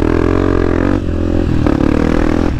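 Dirt bike on a sandy trail, engine droning loud and steady with harmonic whine, revving and dipping briefly around the middle before pulling hard again, close to the rider.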